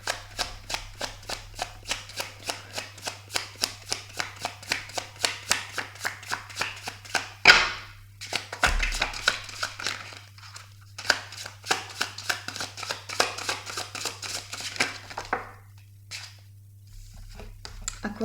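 Tarot cards are shuffled for a reading in a rapid, rhythmic series of soft riffling slaps and flicks, close and quiet, with a brief clatter partway through.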